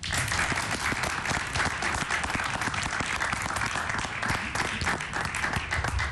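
A studio audience breaks into loud, dense applause as a boy and his older sister come on stage for a TV show, many hands clapping continuously and close for several seconds with no talk.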